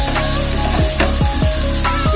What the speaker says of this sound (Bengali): এই ভাজা আলু দিয়ে এখন আমি নাড়িয়ে নেব।